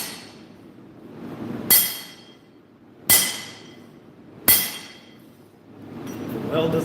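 A hammer strikes an anvil with a suspected casting defect during live forging, giving three loud, ringing metallic blows at even intervals, each decaying slowly over a low background hum.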